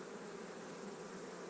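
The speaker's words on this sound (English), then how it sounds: "look at this queenless hive" Honeybees in a queenless hive make a steady, close buzzing hum that holds evenly throughout the short stretch.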